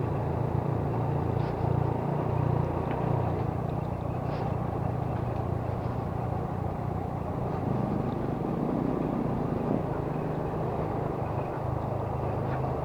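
A motorcycle rides along a road on a group charity ride, its engine droning steadily up close with continuous rumble and wind noise, and no talk over it.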